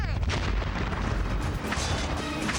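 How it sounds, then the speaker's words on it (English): An explosion in a TV drama: a loud, continuous rumbling blast with crackling debris fills the whole stretch, heavy low booming throughout with no break. "Looks like the explosion came from the west."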